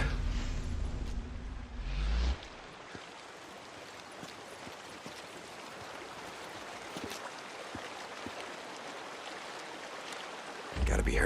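Creek water flowing in Days Gone, a continuous broadband rushing and babbling that stays steady for several seconds, framed by louder noisy game sounds at the start and end.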